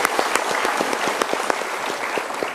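Studio audience applause, a dense patter of many hands clapping at once, steady and fairly loud across the whole stretch with no talk over it.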